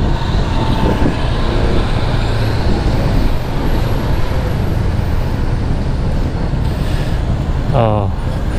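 Rush hour traffic on EDSA highway, a dense continuous roar of buses, trucks, cars and motorcycles close by, with wind noise and a passing vehicle horn near the end, people talking intermittently over it.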